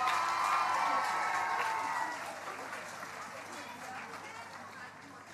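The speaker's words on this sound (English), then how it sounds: "Round of applause, please, for East Herrington and St." Audience at a massed sing event gives East Herrington and St. Anthony's a round of applause, loud dense clapping with some cheering that fades down after a couple of seconds.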